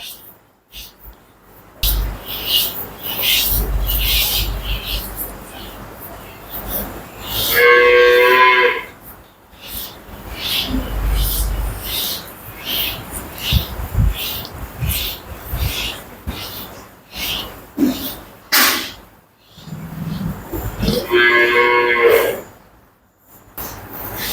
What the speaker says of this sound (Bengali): এই যে ঘরের গাবিগুলা।